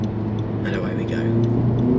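A Honda Civic Type R GT, front-wheel drive and in sport mode after a downshift, accelerates hard with a loud, raucous, steady engine roar close by. Someone talks over it.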